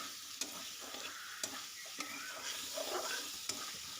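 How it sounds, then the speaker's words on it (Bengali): Boiled jackfruit stir-frying in spice paste in a pan, a steady sizzle punctuated by sharp scraping clicks from stirring at regular intervals, close and without talk. "এই পর্যায়ে সিদ্ধ করা কাঁঠালটি দিয়ে দিলাম, যে মশলার সঙ্গে এইভাবে কিছুক্ষণ কষিয়ে নিব।"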